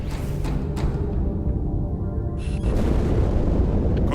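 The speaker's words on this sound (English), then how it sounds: "That explosion came from inside the Athens, same as the Malta." A deep, rolling explosion rumbles through a space station setting in Halo 2, loud and sustained with a heavy low roar that swells again partway through.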